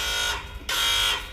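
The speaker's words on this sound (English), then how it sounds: "about the alarm going off" A push-button-start car's alarm blares in two long, loud tones separated by a brief pause.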